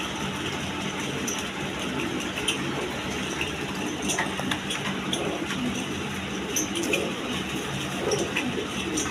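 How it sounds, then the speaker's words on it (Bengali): Large high-flying Giribaj pigeons coo softly and repeatedly in their loft, the low murmuring calls running steadily over a constant background hum. "হাই ফ্লাইং গিরিবাজ কবুতর দেখেন একদম বিগ সাইজের দেখার মতো কবুতর"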